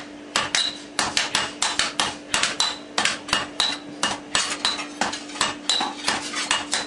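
In a village blacksmith's forge near Chenkottai, iron dosa griddles, appam pans, spades and billhooks are hammered with rapid, steady metallic strikes. The clanging blows come close and loud in an even rhythm, with no talking.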